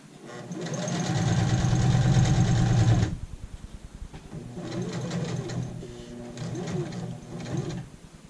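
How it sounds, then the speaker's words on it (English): A sewing machine runs an edge stitch across an apron: a steady whirring run of about three seconds, a pause, then two shorter bursts of stitching, close and clear. "Let's go straight across this edge, continuing with our edge stitch."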